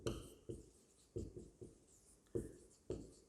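Chalk or marker writing on a classroom board during a maths lesson, with quick bursts of strokes that are close and fairly quiet, coming in an uneven rhythm with short pauses between them.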